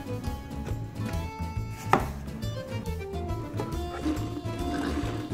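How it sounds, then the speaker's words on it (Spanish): Knife chopping an onion finely on a cutting board for a tomato pasta sauce, a quick run of light taps beneath background music. "Picamos finamente una cebolla de huevo"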